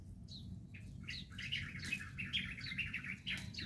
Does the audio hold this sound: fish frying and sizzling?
no